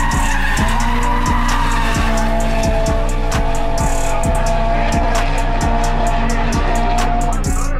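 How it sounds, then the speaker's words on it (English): Drift cars with SR20 engines rev hard and skid on a pro-am track, loud rhythmic engine pulses and tire squeal continuing throughout. "Look at these SR20s, not afraid to dance to the V8s on the track. Listen to the throttle command again."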